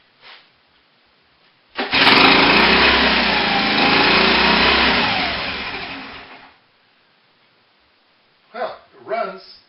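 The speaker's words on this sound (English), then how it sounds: "Well, it runs." A Honda ATC 110 three-wheeler engine starts after a bad coil is replaced and runs loudly and steadily for about five seconds before dying. Brief speech follows.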